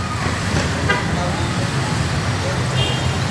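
Busy afternoon street traffic in the Divisoria market area of Manila hums steadily with engines and road noise, a brief car horn toot cutting through, while people talk nearby.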